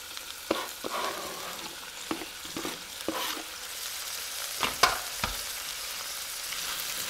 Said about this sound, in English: I'm going to give it a little bit of a stir.